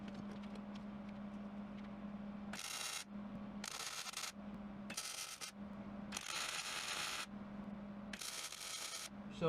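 Tack welds on a track bar reinforcement bracket on the axle of a 2015 Jeep Wrangler JKU: five or six crackling bursts of a second or so each, separated by pauses with a low steady hum.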